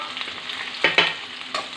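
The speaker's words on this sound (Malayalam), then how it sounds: "അതിലേക്ക് കുറച്ച് കറിവേപ്പില ഇട്ട്" Curry leaves drop into hot oil for a chicken curry, giving a soft steady sizzle close by with a few brief louder crackling bursts as they are stirred.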